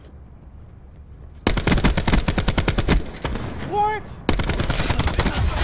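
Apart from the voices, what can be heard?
gunfire in video game Call of Duty: Black Ops 4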